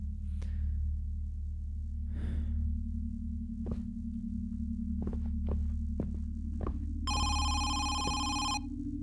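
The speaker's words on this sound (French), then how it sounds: "Le téléphone sonne" In a Thai horror video game, a telephone starts ringing near the end, a bright electronic ring lasting under two seconds over a steady low drone and scattered footsteps and knocks.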